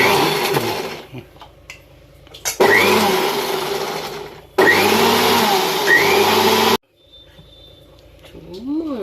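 Electric blender whirring loudly in two bursts while blending watermelon into juice, each burst stopping abruptly, with a voice talking in the quieter gaps between runs.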